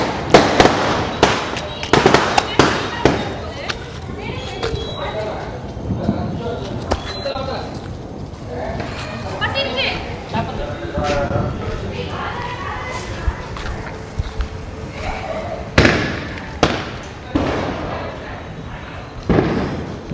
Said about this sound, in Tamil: நம்ம இப்போ கொஞ்சம் பட்டாசு வெடிப்போம்